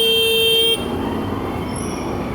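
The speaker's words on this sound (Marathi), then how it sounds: "खूप ट्रॅफिक असतं, खूप." Heavy road traffic on a city street during a motorbike ride: one loud, sustained car horn blares close by, then cuts off, leaving a steady rumble of engines.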